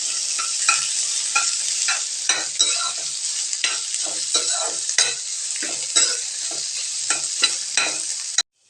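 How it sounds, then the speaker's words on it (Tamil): Thinly sliced onions sauté in a pan with a bright, continuous sizzle, and a spatula stirs them in frequent scraping strokes that stay close and loud. "வெங்காயம் நல்லா வதங்கட்டுங்க."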